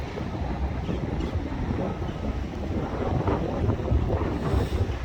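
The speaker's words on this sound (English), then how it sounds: "That wind is actually really picked up." Strong wind blows outdoors as a storm builds, a steady loud roar with gusty rumbling buffeting against the microphone, continuous and without talk.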